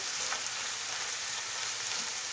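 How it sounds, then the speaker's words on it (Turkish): Tomatoes being sautéed and stirred in a pan for karnıyarık give off a dense, even sizzling hiss, close and continuous with no talking. "Ve yine karıştırarak kavuruyoruz"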